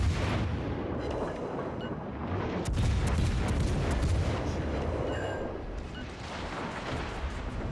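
Naval guns and secondary batteries firing in World of Warships Legends aboard the premium battlecruiser Moltke, a dense, loud rumble of booming gunfire and explosions layered continuously, with sharper cracks around the middle.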